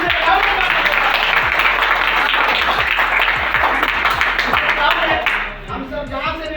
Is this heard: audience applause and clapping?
yes